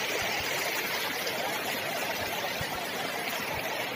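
A mountain stream on the Dudipatsar trek in the Naran Kaghan area rushes steadily, a dense, even hiss of flowing water with no break, close by and fairly loud.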